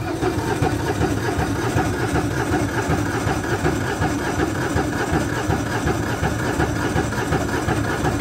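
Landmaster LM650 engine idling just after a choked cold start at -7°, a steady, dense rumbling chug that runs loud and unbroken throughout with no talk.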